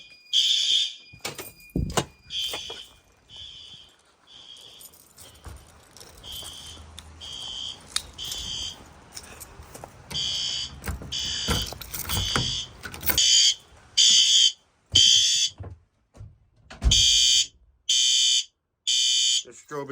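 Fire alarm horn strobe sounding during June building testing, loud repeating horn blasts in regular pulses, with a steady high tone early on and handling noises between.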